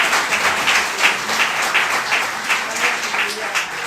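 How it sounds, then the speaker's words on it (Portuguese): A church congregation gives the Lord a round of applause, a dense, steady wash of many hands clapping at a lively pulse, loud and close. "Uma salva de palmas ao Senhor."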